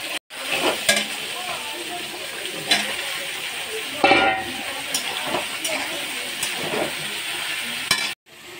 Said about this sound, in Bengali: আমি এখন দিয়ে দিচ্ছি সয়াবিন আর আলু পেঁপে একসাথে দিয়ে দিচ্ছি সব